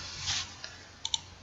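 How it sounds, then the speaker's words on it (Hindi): A few light computer mouse clicks land sharply in quick succession, a soft one first and then a close pair, over a faint steady room hiss. "तो यहाँ पर क्लिक करते हैं"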